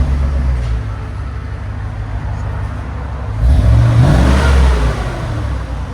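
A 2004 Chevy Avalanche Z71 with a 5.3L V8 and a Flowmaster Super 10 exhaust idles with a deep, steady rumble, then revs up in a loud, low surge before settling back down.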